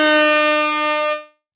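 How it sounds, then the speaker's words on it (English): A single loud air horn blast with a bright, buzzy tone, held for about a second before cutting off abruptly into silence, followed by a faint click. "Let's hit that air horn."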